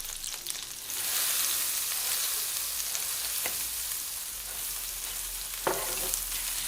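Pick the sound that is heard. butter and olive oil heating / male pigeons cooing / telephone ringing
butter and olive oil heating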